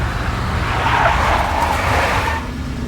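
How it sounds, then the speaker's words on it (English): A big black Mercedes in the video game Max Payne roars along with its engine running loud and steady while tires skid and squeal throughout, easing off slightly near the end. "A big black Mercedes."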